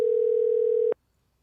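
A telephone line sounds one steady, unbroken tone for just under a second while a call is placed, then it stops abruptly and leaves near silence.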